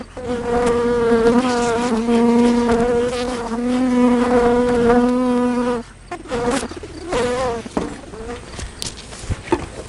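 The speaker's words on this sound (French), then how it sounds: "Ça, c'est une ruche de première année." Honeybees buzzing around an opened first-year beehive during a colony visit, a steady close droning hum for several seconds, then scattered nearer passes of individual bees as the drone breaks up.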